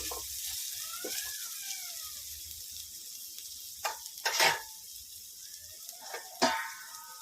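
Fish curry stirred in a pan with turmeric, a steady soft sizzle running throughout and a few brief louder scrapes of the spoon against the pan; no talking.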